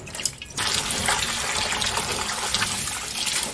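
Tap water runs steadily into a sink while gompi seaweed is rinsed after soaking, a brief quiet moment first, then a continuous close hiss and splash with no talking.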